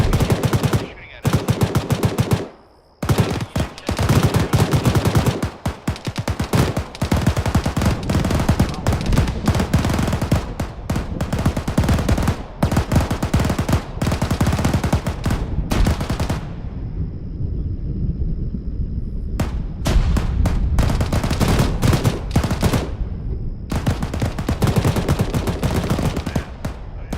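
Heavy automatic gunfire from an enemy vehicle in Arma 3, long loud bursts of rapid shots repeating over nearly half a minute with brief pauses between volleys, close and harsh.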